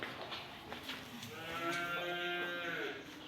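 Pure Holstein Friesian cattle on a farm in Bogura, one cow giving a drawn-out mellow moo in the middle of the clip, faint and somewhat distant over a quiet background.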